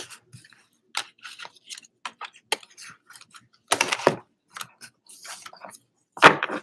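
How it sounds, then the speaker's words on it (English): A deck of angel oracle cards is shuffled in short bursts of crisp papery riffling and soft taps, close and fairly quiet, with gaps of silence between them. "first we shuffle the deck"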